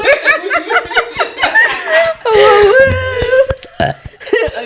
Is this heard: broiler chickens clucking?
no